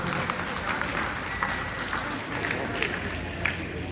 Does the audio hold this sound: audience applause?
yes